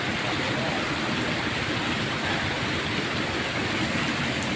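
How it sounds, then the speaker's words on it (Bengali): Continuous rainfall, an even rushing hiss with no breaks, close and fairly loud throughout. "রিমঝিম বৃষ্টির শব্দ"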